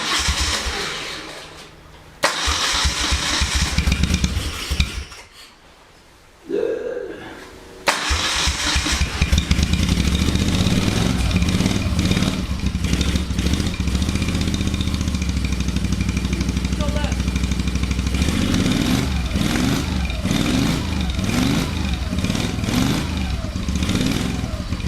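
A Moto Guzzi V35 motorcycle on its stand cranks, catches and fires up, then idles and revs loudly and close for a long stretch after a brief pause.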